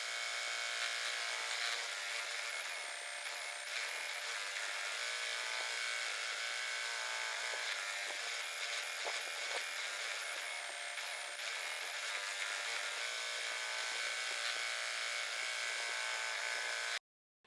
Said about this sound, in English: I also slowed my machine down to the very lowest speed